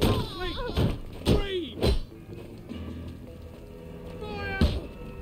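In the video game We Happy Few a cat meows several times, short rising and falling cries mixed with thumps and a door-like slam, close, with game voices speaking around them.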